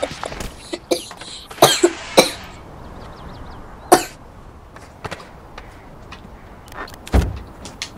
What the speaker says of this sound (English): I ended up coughing.